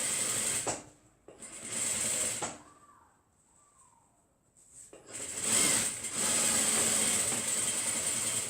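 A sewing machine stitches fabric for a foldover bag. Loud, fast whirring bursts run close by, broken by a quiet pause with faint mechanical sounds before the stitching resumes.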